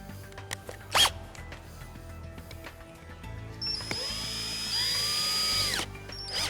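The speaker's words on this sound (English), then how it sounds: "Just start them by hand, and then you can simply grab a drill." A power drill tightening screws while assembling a dinette chair whirs steadily for a couple of seconds after a few clicks and a brief zip-like sound, loud and close.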